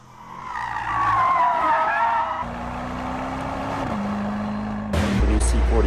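A 2023 Mercedes-AMG GT 63 S four-door coupe with a V8 hybrid drivetrain is driving: a loud, steady engine drone with a shifting pitch, tire noise, and a sharp burst near the end.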